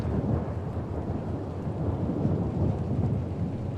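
Deep, loud thunder rumbles continuously in a Tell Me Why storm, a heavy low roll blended with rain and no voices over it.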